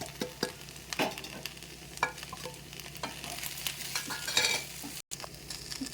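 Ivy gourd pieces fry in a pan with coriander, chilli and cumin powders, giving a steady soft sizzle broken by a few sharp stirring scrapes, close and moderately quiet with no voices.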